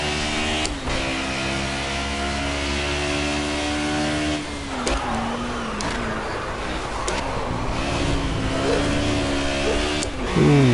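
Engine of a Ford Sierra Cosworth in the racing game Project Cars, revving hard with a steady whine, dropping sharply through downshifts to third gear and climbing again, the drone loud and constant throughout.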